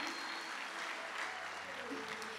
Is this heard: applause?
yes